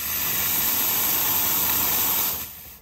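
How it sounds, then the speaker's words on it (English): Steady broadband hiss from the steam wand of a La Pavoni Esperto Abile lever espresso machine, loud and continuous for nearly three seconds before tapering off at the end, with no voices. "The steam can be a bit wet here."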